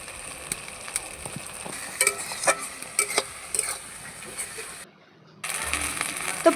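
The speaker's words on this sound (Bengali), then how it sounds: "এবার আদা রসুনের পেস্টটা দিয়ে একটু কষিয়ে নেবো।" Ginger garlic paste is stir-fried with chopped onion and tomato in ghee for chicken pulao, a close soft sizzle broken by repeated scraping stirs of the spatula and a short quiet gap near the end.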